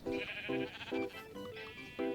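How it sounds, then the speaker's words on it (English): Video-game sheep bleating repeatedly after being struck by a plane, five short wavering bleats in a steady rhythm, close and fairly loud with no talk. "did I just run over a sheep with my plane?"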